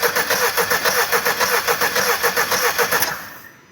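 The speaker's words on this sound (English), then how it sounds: "He's going to crank the engine over, and then that's it." A Mercedes B-Class engine cranks over without catching, the starter churning in a quick, even rhythmic pulse for about three seconds before cutting off and fading to quiet.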